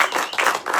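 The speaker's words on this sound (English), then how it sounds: "Can we have a round of applause?" A seminar audience breaks into a brief, dense round of applause, many hands clapping together at a steady, fairly loud level without any talking.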